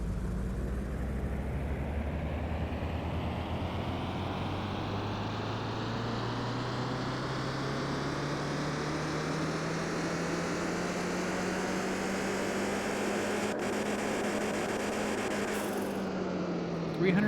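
Nissan Silvia S15 engine running steadily, a continuous loud drone whose pitch rises slowly and evenly, as on a dyno pull, then drops off near the end; talk may sit faintly beneath it.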